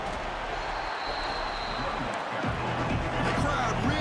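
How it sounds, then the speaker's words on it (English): A stadium crowd roars near the goal line in EA Sports College Football 26, a broad sustained din of cheering that swells slightly while a commentator talks over it. "The crowd really making some noise now"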